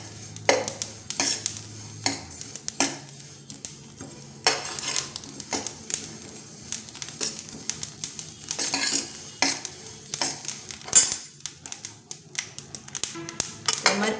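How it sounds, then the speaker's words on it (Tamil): Sesame seeds roasting in a pan for idli podi while a spoon stirs them, heard as repeated close scraping and clinking strokes in an uneven rhythm over a light sizzle, with no talking. "எள்ளு சேர்த்து பொரியிற அளவு வறுபடணும்"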